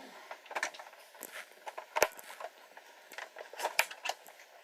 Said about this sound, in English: You can hear the sound of those ratchets just clicking away there.